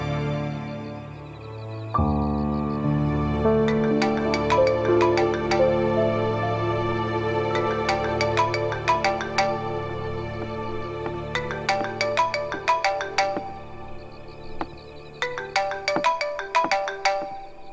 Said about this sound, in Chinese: 电话一直响着，怎么不接呀？